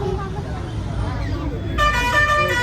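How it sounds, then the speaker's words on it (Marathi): Heavy road traffic with vehicle horns during Ganesh Chaturthi, engine rumble under nearby talk, then a loud sustained horn blast near the end. "काय फुल ऑन ट्रॅफिक"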